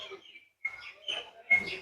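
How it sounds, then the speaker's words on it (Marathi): Birds in a park at a picnic spot near Nasrapur, Pune, give a few short, faint, scattered chirps and tweets with quiet gaps between them. "पक्ष्यांचा किलबिलाट"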